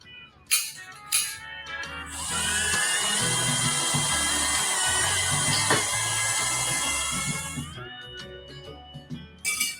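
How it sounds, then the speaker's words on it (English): Holes being drilled in a welded buggy frame to secure the axle: a loud, steady high-pitched drill whine runs for about six seconds, framed by short bursts of drilling and clatter before and after. "Time to drill some holes to secure the axle."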